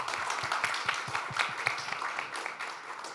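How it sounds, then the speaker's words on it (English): Applause at an NGO education initiative anniversary event, a crowd clapping steadily with some distinct individual claps standing out, fairly close and moderately loud before easing slightly toward the end. "I think that deserves a round of applause."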